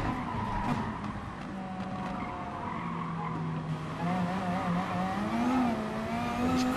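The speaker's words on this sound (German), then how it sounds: "Die Reifen drehen immer durch." VW Beetle GT3 in GT Sport on the Tsukuba circuit, tyres spinning and squealing continuously under a droning, revving engine for several seconds at steady loudness.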